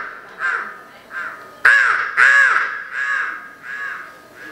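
A human voice imitates a crow cawing in the morning at a cultural program: a series of loud, harsh, nasal caws in an uneven rhythm, some short and some stretched, close and alone.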